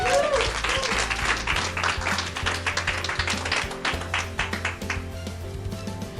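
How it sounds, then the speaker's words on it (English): An audience at a talk on healing applauds a speaker's introduction, dense clapping heard close and loud, continuing steadily over a low musical background. "Warm round of applause to Dr. Mahmoud Rashidi."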